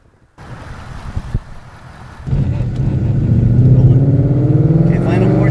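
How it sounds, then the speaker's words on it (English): Engine of a 2016 Ford Mustang GT with about 73k miles rumbles on a test drive, quiet at first, then swelling into a steady, louder drone as the car accelerates and keeps pulling. "So let me take it out for a test drive so you can hear it run."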